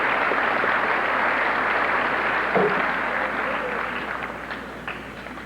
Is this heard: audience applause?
yes